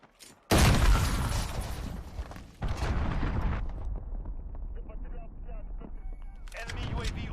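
Cruise missile strike in the Call of Duty Modern Warfare beta, a sudden loud blast followed by a second heavy boom, then a long rumbling decay and scattered gunfire, with a voice talking under the noise.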